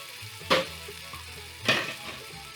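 Tomatoes with their juice and basil hit a hot pan for a quick marinara, giving two short bursts of sizzling spatter about a second apart over a quiet low hum.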